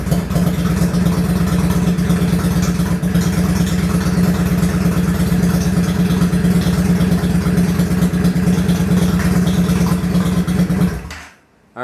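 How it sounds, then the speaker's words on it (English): A Yamaha V-Star 650 motorcycle engine idles steadily and loudly with a low, even throb and no talk, then cuts off abruptly near the end. "I'm going to go ahead and start the bike"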